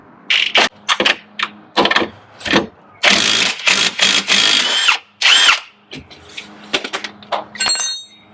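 A power tool spins off a sway bar link nut on a Jeep Grand Cherokee in loud, close bursts of whirring and rattling impacts, stopping and starting several times.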